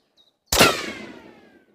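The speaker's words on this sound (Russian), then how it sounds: "И сейчас пуля прошла буквально над микрофоном или над головой." A single loud, sharp crack as an AK-74M bullet passes right overhead, close to the microphone, after a moment of near silence. A long ringing echo trails off afterward.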